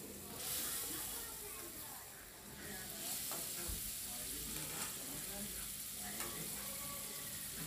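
Fried potatoes stirred with spices and a little water in a pan for a potato dum, giving a steady close sizzle and hiss with occasional scraping, faint voices murmuring underneath.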